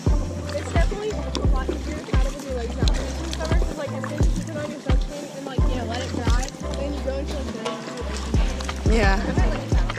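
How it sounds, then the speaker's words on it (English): Paddleboard paddles dip and pull through the water in a steady rhythm of close splashing strokes, with voices chatting over them throughout. "Paddling again?"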